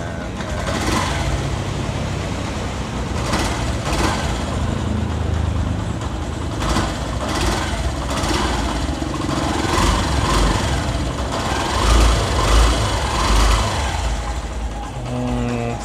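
Yamaha YTX 125 motorcycle single-cylinder engine running close up with a steady, loud chugging idle, fitted with a Bosch UR2CC spark plug, while someone adjusts the idle; brief bursts of speech and clanks break in now and then.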